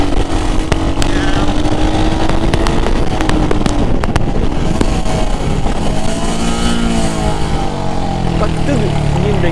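A Royal Enfield Hunter 350 motorcycle engine revs and drones loudly and continuously, its pitch rising and falling as it decelerates on engine braking.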